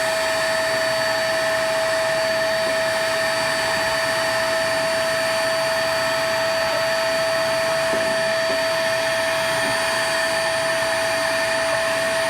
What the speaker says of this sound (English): you can see that good vacuum like that just cleans that stuff right up